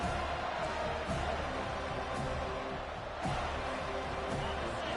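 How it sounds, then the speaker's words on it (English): A football stadium crowd at a Clemson game roars in a loud, sustained wall of cheering, with swelling peaks and occasional sharper shouts rising above the dense, continuous noise. "This crowd, full throat, splitting the eardrums and letting them know it's going to be a long day."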